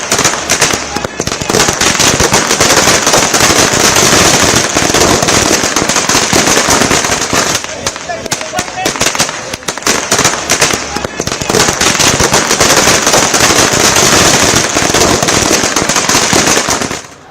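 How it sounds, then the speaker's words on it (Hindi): Firecrackers and fireworks go off in Mumbai, a loud, continuous barrage of rapid cracks and bangs crowding together with hardly a pause, briefly thinning twice before the din resumes. "मुंबई में पटाखे, आतिशबाजी हो रही थी"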